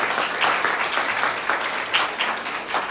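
A church congregation applauding during a French-language anniversary service, steady dense clapping that fills the whole stretch at moderate loudness with no voices over it.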